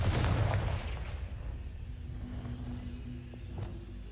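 A blasting curse spell goes off in a Harry Potter video game, opening with a loud burst and falling into a rumbling, crackling boom that fades out under lingering game ambience and faint tones.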